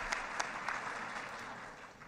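An audience claps in broken, uneven bursts, a scattering of sharp hand claps over a dense steady hiss of applause, fairly faint and at a distance, with no voices standing out.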